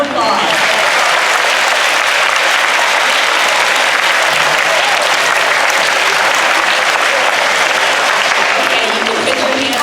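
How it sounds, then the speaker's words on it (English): Sustained, loud applause from a school audience welcoming new students at a board of education reward school announcement, steady and dense for the full stretch, with a few voices mixed into the clapping. "Let's give them a round of applause."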